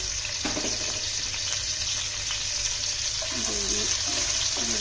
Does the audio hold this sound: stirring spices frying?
yes